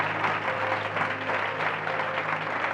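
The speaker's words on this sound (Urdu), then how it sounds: "زوردار تالی اس ناصری کے لیے" A church congregation applauding loudly during a Christmas Day service, dense sustained clapping from a large crowd filling the room at steady volume, with no voices standing out.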